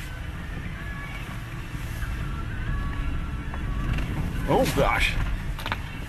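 Car driving through about a foot of snow on a snowy highway, a steady low rumble and crunch of tyres and engine throughout, with a brief voice exclaiming over it.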